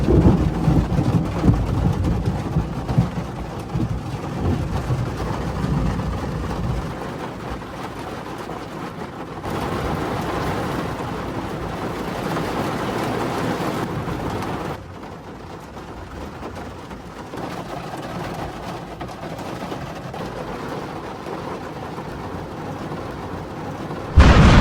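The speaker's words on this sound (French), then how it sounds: "J'ai l'impression qu'il grêle." Heavy thunderstorm with possible hail, heard from a car stopped at a roadside: loud continuous rain drumming and rumbling thunder, fading somewhat then surging again near the end, no talk.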